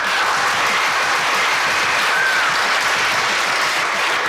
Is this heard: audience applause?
yes